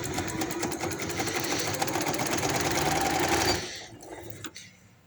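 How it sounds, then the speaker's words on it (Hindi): A sewing machine stitches elastic onto garment sleeves, running in a steady fast whir of needle strokes for about three and a half seconds before stopping, followed by faint handling noises. "इलास्टिक को भी और बाजू को भी इस तरह से साथ अटैच करके सिलाई लगाते जाएं"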